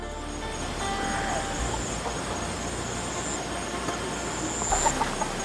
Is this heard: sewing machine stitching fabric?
no